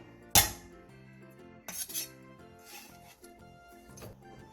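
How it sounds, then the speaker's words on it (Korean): Whole garlic cloves crushed under the back of a knife on a cutting board: one sharp loud knock, then a few softer clacks and scrapes, close and alone over faint background music. "통마늘 한 주먹을 칼등을 이용해 살짝 으깨주세요"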